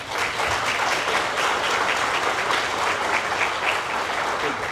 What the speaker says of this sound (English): I'm going to ask them just to stand up for a round of applause.